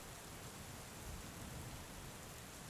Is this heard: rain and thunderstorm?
yes